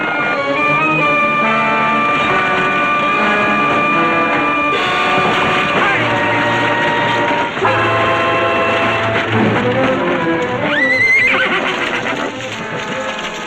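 Wagon horses in a Western whinny and neigh loudly over galloping hooves, with a soundtrack playing under them and a shrill neigh rising near the end.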